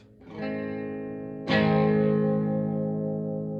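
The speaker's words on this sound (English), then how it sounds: "you can hear the diode clipping" Two strummed electric guitar chords through a modified Crate Blue Voodoo amp, the second louder, heavily diode-clipped and fuzzy with a buzzy distorted sustain ringing out.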